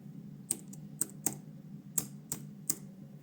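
Typing a name on a computer keyboard, six or seven sharp, close key clicks spaced irregularly over a quiet low hum.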